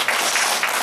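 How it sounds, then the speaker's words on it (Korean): Audience clapping at a gathering, a short, dense burst of applause heard close and loud. "예, 박수 한번 보내주십시오."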